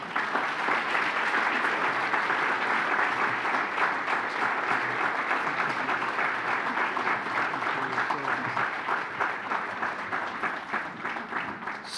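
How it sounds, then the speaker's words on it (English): Audience at a county hall of fame gala applauds in a large hall, a dense, steady wash of many clapping hands that carries on for several seconds and tapers slightly near the end. "Once again, round of applause for Miss Adams."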